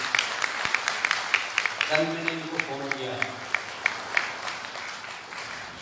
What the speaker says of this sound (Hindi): गजेंद्र जी के लिए जरा जोरदार तालियां हो जाए